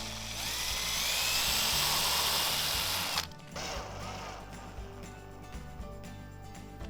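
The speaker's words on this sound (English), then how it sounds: "then pre-drill the hole by hand" A high-pitched power drill whines steadily for about three seconds while drilling a pilot hole into wood, then cuts off, leaving quieter mechanical clatter and handling noise.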